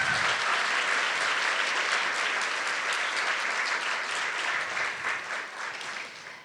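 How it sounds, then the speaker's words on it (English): A poetry showcase audience applauds, a dense, even wash of hand clapping from a crowd that holds steady and then tapers slightly toward the end. "One more round of applause for Mike, please."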